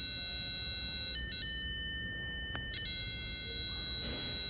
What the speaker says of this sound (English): it's emitting a different tone from the piezo